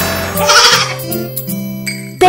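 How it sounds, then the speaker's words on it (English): A baby goat in a children's cartoon bleats in a loud, close, wavering cry that rises and falls over a couple of seconds, with a sharp sound cutting in at the end. "Baby goat, baby goat,"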